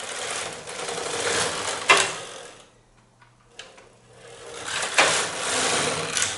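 A knitting machine carriage is pushed back across the bed knitting a row of double 1x1 rib, making a close swishing, clattering sweep. It goes quiet for a second, then a second sweep follows.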